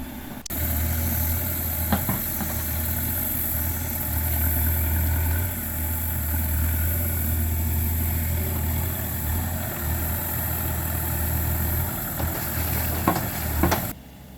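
Diesel engine of a Bobcat mini excavator running steadily, a low droning rumble that holds for the whole stretch with a few faint knocks and clanks near the start and end, no voices.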